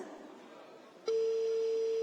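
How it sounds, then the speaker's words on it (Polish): Silence and faint room murmur give way to a steady, sustained telephone ringing tone on a lottery prize call, loud and unbroken through the second half. "Uwaga, Patryku, był pierwszy sygnał."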